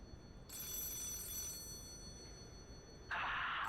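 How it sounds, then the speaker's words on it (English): A telephone rings in the Lies of P video game, a bright bell-like ring that sounds for about a second, then a second ring begins near the end. "someone is calling me on the phone"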